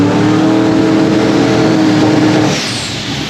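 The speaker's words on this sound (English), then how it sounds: "Turbo cars and they're spooling up stuff." Turbocharged drag race cars idling and spooling up at Tulsa Raceway, a loud, steady engine drone with a whining tone that drops away near the end.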